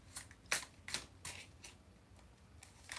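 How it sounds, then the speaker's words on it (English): Quiet riffle shuffles of a deck of cards, five or six crisp ruffling bursts in quick succession, then a softer pass near the end, close and alone without talk. "I don't know why I feel the need to shuffle this."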